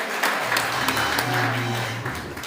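Audience applause at a press conference for a web series, a steady wash of clapping from many hands, with faint voices murmuring underneath.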